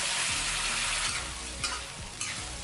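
Canned fish stir-fried with fried chili and garlic, a steady loud sizzle of hot oil with repeated scraping strokes of a spatula, two sharper clanks of utensil on pan standing out.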